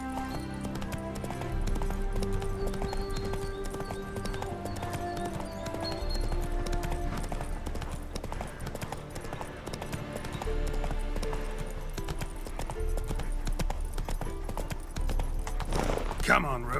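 A horse galloping in the video game Witcher 3, with rapid rhythmic hoofbeats close by throughout under game music, with a rider urging it on and other voices speaking over it.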